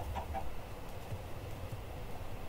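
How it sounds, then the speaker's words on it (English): A chicken in the Minecraft video game gives a few short clucks near the start, heard over dense, continuous game background noise. "Damn you, chicken!"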